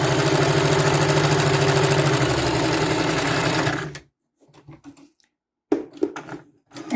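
A sewing machine back stitches at the corner of a quilt with a loud, fast, steady mechanical whir for about four seconds, then stops abruptly, leaving faint handling noises.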